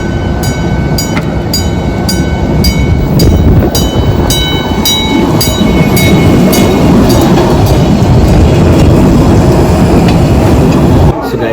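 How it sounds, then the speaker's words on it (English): A train rolls past on the rails in Buffalo, loud and close, with a steady broadband rumble and regular clicking wheel beats that last the whole pass. "So here the train comes"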